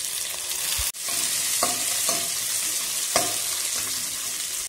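Onions frying in a pan until golden for prawn string hopper biriyani, a steady close sizzle broken by a few sharp stirring scrapes, with no talking.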